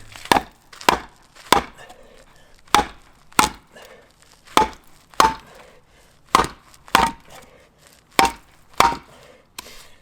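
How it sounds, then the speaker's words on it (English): A Work Tuff Gear Night Hunter knife being batoned through stubborn wood, giving about fourteen sharp, loud woody cracks at an uneven chopping rhythm, close up with no talk. "So this is doing still a plenty good job chopping, a plenty good job with these batoning tasks."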